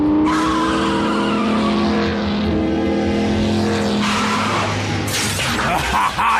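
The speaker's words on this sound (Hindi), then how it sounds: "मैं इस इंजन की आवाज को अच्छी तरह पहचानता हूं" A loud animated car engine roars and revs continuously in a Transformers Prime episode, with tires squealing and skidding near the end, sounding fast and close.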